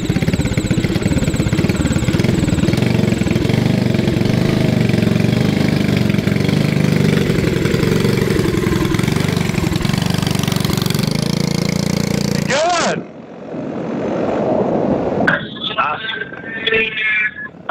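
A small Tillotson T4 racing kart engine runs loud and steady with a rough, buzzing idle, then cuts off abruptly; afterward faint rustling and a brief high mechanical whine follow.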